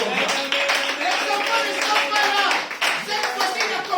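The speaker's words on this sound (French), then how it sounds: "Acclamez très fort" Audience in a French-speaking religious gathering claps loudly in acclaim, a dense continuous patter of hands that is close and sustained, with voices and music-like tones mixed in.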